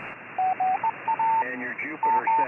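Two radio receivers on a FlexRadio 6000 series heard at once, one per ear: clean Morse code tones beeping in rhythm in one, garbled single-sideband voice chatter in the other.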